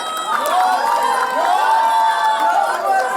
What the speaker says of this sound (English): Come on, one more applause.